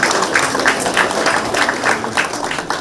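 Audience applause at the opening ceremony of a mayoral candidate's election campaign office in Gumi, a steady burst of many hands clapping in a room, fairly loud and continuous, with faint voices mixed in.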